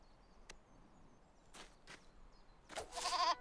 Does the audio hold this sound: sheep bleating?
yes